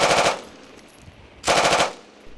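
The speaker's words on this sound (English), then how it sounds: "first up was the CADX recoil rail on the M249 and M240 SAW, shooting up to 800 meters with tripod and bipod mounts" Two loud, rapid bursts of automatic fire from M249 and M240 machine guns fitted with CADX recoil rails on tripod and bipod mounts, each burst about a third of a second, separated by a quiet pause with faint echo.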